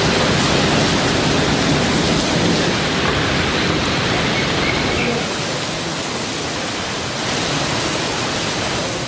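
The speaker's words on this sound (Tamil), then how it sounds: "ஆவடி சுற்றுவட்டார பகுதிகளிலும் கனமழை வெளுத்து வாங்கியது." Heavy rain pouring steadily across suburban areas around Avadi, a dense, continuous hiss that holds loud throughout and eases only slightly partway through, with no voices.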